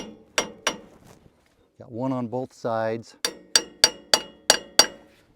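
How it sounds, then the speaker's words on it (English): A hammer drives a punch against the felt adjusters on a Woodmizer sawmill track: two sharp metallic strikes, a short spoken remark, then five crisp, evenly spaced clinking blows, close and loud. "I just get a hammer and a punch"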